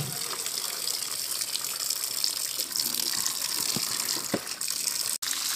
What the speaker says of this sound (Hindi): देखिए मिर्ची को धो लूँगी अच्छे से